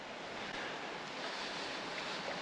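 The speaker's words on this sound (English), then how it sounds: "We've got a bit of wind here" Wind rushes over the microphone beside a trout stream on an autumn day, a steady close broadband roar with no voices.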